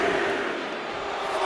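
Arena crowd noise from the wrestling game WWE 2K25, a steady, loud roar of cheering spectators as Bronson Reed rallies them during a referee's count.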